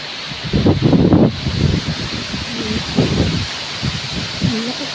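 Strong wind gusts roar and buffet the microphone in loud, rushing bursts, with a faint voice heard briefly near the end.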